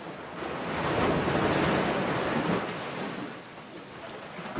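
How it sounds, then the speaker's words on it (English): Sea waves wash onto a beach in a steady, rushing swell that rises and falls, with light wind noise on the microphone. "the sound of the water coming in, the waves lapping"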